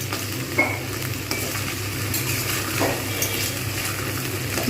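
Okra sizzles in oil in a pan while a utensil stirs it, giving a steady frying hiss with scraping knocks of the spoon against the metal.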